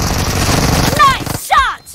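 A rapid burst of loud automatic gunshots in a mobile shooter game, followed by sweeping whistle-like effects, with a voice shouting over the action.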